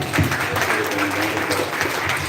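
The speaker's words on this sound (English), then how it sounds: "So, hands of applause again." A crowd at a Ghanaian YouTuber meetup claps together in a continuous, even burst of applause, fairly loud and close, with no voices standing out.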